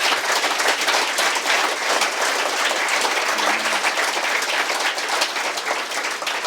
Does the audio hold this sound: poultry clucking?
no